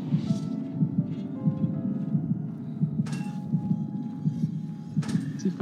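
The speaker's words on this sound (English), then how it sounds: "I hear a heartbeat" A steady, thumping heartbeat from the Dead by Daylight video game pulses rhythmically and close throughout, with occasional sharper game noises over it and no talk.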